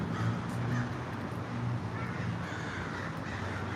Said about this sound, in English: ravens or something, or yeah, crows.